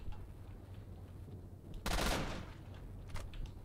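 A weapon in the S.T.A.L.K.E.R.: Shadow of Chernobyl video game fires a short loud burst lasting about half a second, followed by a faint single shot, against a quiet background hum.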